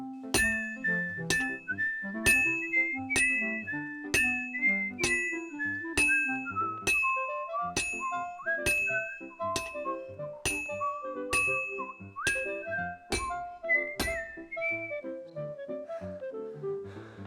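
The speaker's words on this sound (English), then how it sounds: "I think that's the longest I've ever got Henry to whistle" Henry whistles a long, wandering melody in Kingdom Come Deliverance 2 while blacksmithing, with steady, evenly spaced metallic hammer clinks on the anvil ringing beneath the tune and no talking.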